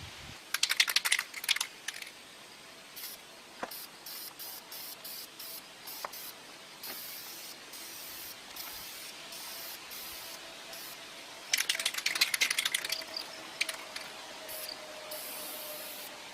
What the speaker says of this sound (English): I just got to lay down one more coat of paint